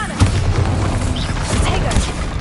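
Explosion spells from the Hogwarts Legacy video game go off in quick succession, with booming, crackling blasts and low rumbles layered under a spoken voice.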